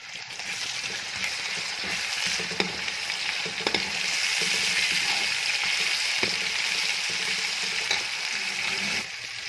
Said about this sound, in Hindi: लहसुन अदरक फ्राई हो चुका है प्याज़ों के साथ